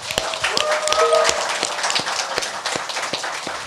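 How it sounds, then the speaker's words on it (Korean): Studio audience applause opening a current-affairs talk show, a steady burst of clapping close and fairly loud, with a brief electronic tone sounding over it near the start. "여러분의 힘찬 박수와 함께 시작하겠습니다"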